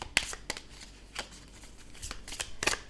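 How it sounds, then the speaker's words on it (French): A deck of angel oracle cards is shuffled by hand, producing several quick, close riffling and slapping bursts separated by short pauses. "On va prendre quelques cartes des anges de l'abondance."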